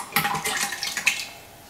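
Canned fire-roasted diced tomatoes pour into a pot for lobster bisque, giving a short burst of wet splashing and sloshing that fades within about a second.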